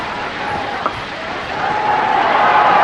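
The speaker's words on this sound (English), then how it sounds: "And the anticipatory clapping starts." Stadium crowd at a cricket match between Australia and India in Colombo, clapping steadily as a diffuse broadband wash that swells toward the end, with a faint steady tone running underneath.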